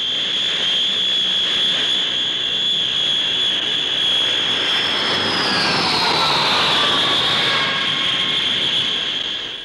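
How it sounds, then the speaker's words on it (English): A Handley Page Herald turboprop airliner with Dart engines flies past at an air show, a loud sustained engine whine and roar that swells and shifts in pitch as it passes. "the Handley Page Herald with well-tried Dart engines making a spectacular picture"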